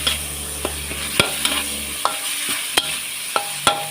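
Pork being stir-fried for a basil stir-fry in a pan, with a continuous sizzle punctuated by regular sharp clacks of a spatula against the metal, about every half second.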